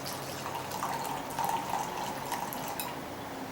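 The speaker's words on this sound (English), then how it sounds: "Pour it in the fucking glass here." Tequila pours into a shot glass, a soft trickling stream of liquid that runs for a few seconds at close range with no talking.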